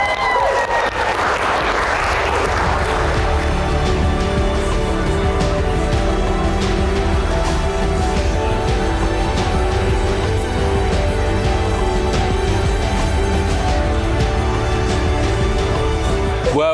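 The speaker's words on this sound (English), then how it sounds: "I just want to give you a massive round of applause for being here today" Wedding guests at Butley Priory burst into loud, sustained applause and cheering that fills the room without a break, with steady music playing underneath.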